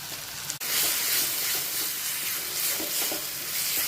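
Tomatoes sautéing with salt in a pan for a Kerala-style fish curry give a steady, close sizzle and hiss, with a sharp click near the start and soft stirring scrapes throughout.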